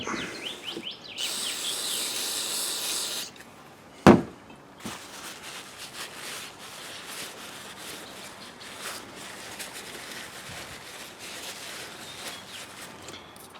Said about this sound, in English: take some brake parts cleaner, lose your little washers on there. We'll clean that up a little bit.